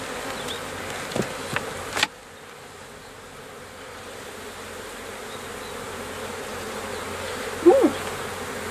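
Honey bees buzz steadily around an open hive while it is being requeened, a soft continuous insect hum throughout with a few brief knocks early on and a short sharper sound near the end.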